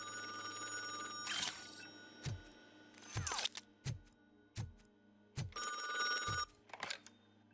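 A bell-like phone ringing in the video game Robocop Rogue City, three bursts of rapid trilling rings with heavy footstep-like thuds in between, clear and close with no speech.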